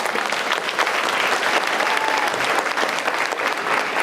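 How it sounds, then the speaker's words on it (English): Sustained, steady applause from an audience at the 2019 Goldie Locke Excel Awards ceremony in Garland ISD, dense clapping filling the room at even loudness throughout with no pauses. "let's give him a round of applause"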